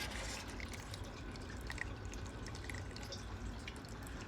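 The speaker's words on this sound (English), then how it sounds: "Then the water drains in here." Water drips and drains inside a wormiponics tower fed by irrigation lines, with faint, scattered drips over a low steady trickle, quiet and with no voices.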